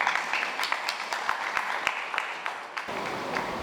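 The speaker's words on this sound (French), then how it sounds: "que je vous demande d'applaudir, s'il vous plaît" Audience applause filling a hall at a constitutional ceremony, a dense steady patter of many hands clapping at a moderate distance, holding through to the end with no talk over it.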